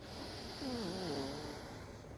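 A single slow breath drawn in through the nose during a breathing exercise, soft and close with a faint whistling, snore-like rasp as it swells midway and eases off, no talking over it.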